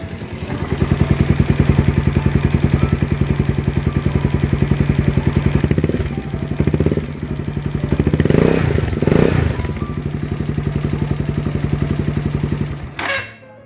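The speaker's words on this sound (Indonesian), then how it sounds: "Ini knalpot standar udah dibobok." A custom Bajaj Pulsar 220 with a hollowed-out stock exhaust idles close by with a loud, rough, rapid exhaust thump, briefly revving up and down before cutting off at the end.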